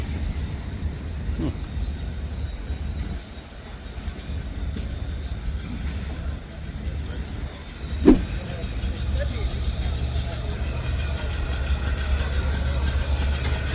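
A small flathead four-cylinder engine idles at a steam show, a quiet, steady low rumble running throughout, with one brief sharp knock midway and people talking nearby.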